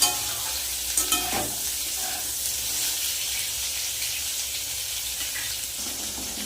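Chopped bitter gourd and potatoes frying dry in a pan, a steady close sizzle with a few sharp clatters of stirring at the start, no voices.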